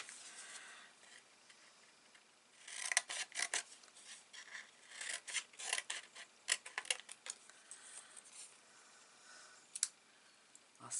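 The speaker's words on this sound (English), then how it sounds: "So I'm just going to start to snip away." Small Stampin' Up snips cutting paper for a Christmas card, heard as a quiet, close series of crisp snipping clicks in irregular bursts with short gaps between cuts.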